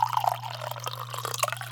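Hot water pours from a kettle into a tea mug, a soft close trickle with small drips and splashes over a steady low hum, no voices.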